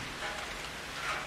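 Steady rain falls in the video game Outlast 2, a dense, even hiss of drops with no break across a brief moment and no voices over it.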